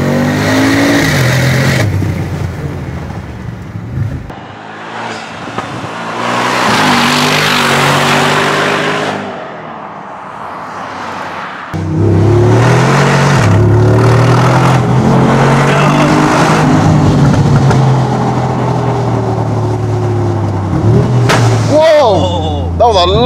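Tuned Mercedes G63 AMG V8 making around 750 brake horsepower, revving hard and accelerating in loud sustained bursts with gear changes and a sharp bang, heard from inside the car with someone talking over it.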